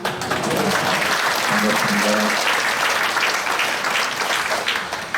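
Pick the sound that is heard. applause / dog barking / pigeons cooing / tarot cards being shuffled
applause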